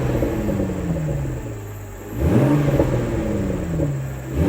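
A Toyota GR Supra engine revving nearby, pitch falling through a long drop, then surging in a sharp rev around the midpoint and easing down again, ending with another rise.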